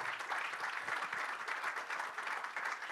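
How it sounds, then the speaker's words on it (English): An audience at the CXO Incubation Summit in Mumbai claps after a talk, a dense, even round of applause held at moderate distance for the whole stretch, with no one speaking over it. "applause, please."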